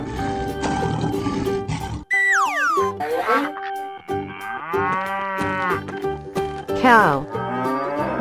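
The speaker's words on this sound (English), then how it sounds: "Cow." Cow mooing in a children's guessing game, several drawn-out, tonal moos of varying pitch following one another at close range over steady background music.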